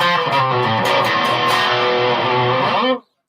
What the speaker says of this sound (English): is that distortion now?